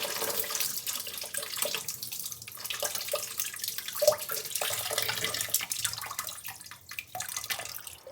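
Water from a toilet bowl drains steadily into a bucket placed below during a fill valve replacement, a continuous close splashing trickle with small drips, no talking.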